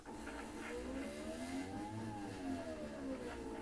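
A computerized quilting machine restarts sewing with a soft, steady motor whir whose pitch climbs and dips as it runs, heard faintly and continuously.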